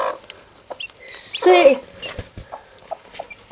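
A mother hen clucks near her small chicks, soft peeps and clucks scattered among close Danish voices talking throughout.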